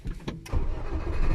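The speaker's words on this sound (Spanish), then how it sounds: "al momento de encender el carro" A Nissan Tsuru car with a smart key system starts up: a brief click and whir of the starter, then the engine catches into a low, rumbling idle, close and alone.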